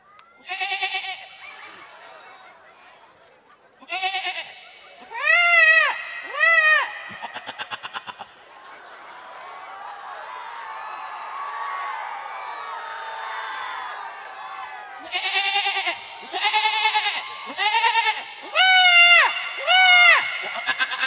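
At a live Rongali Bihu comedy show, a performer's voice imitates a goat's bleat through the microphone in repeated wavering bursts. A crowd laughs and cheers loudly between the two sets of bleats.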